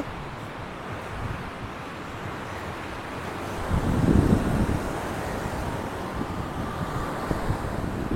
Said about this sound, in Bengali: সমুদ্রের গর্জনটা বেশ ভালো রকম শোনা যাচ্ছে